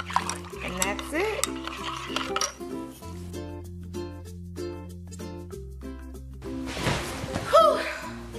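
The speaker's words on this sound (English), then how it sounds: "it just stirs until everything is dissolved" A spoon clinks rhythmically against the inside of a cup while stirring, steady repeated taps, followed by a burst of laughter and talking.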